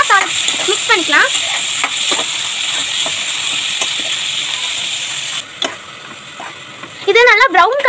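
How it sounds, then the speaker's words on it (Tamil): Onions and green chilies sauté in a pan for crab masala with a constant frying sizzle and occasional stirring scrapes, while someone talks over it at the start and end. "இது நல்லா ப்ரௌன் கலரில் ஆகிற வரைக்கும் நம்ம நல்லா வதக்கிக்கணும்"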